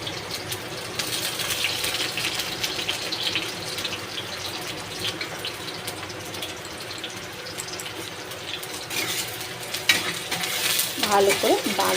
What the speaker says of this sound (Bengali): এখানে তেলটা গরম হয়ে গেছে, এবার আমি পেঁয়াজটা দিয়ে দেব।